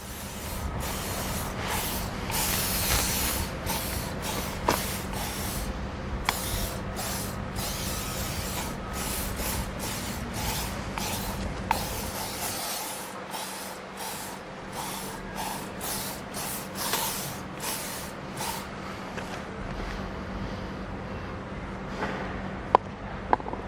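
Arexons exterior plastic and bakelite trim restorer sprayed onto a car's plastic parts, a steady broadband hiss in repeated short bursts, close and fairly loud, running for the full duration with no talking.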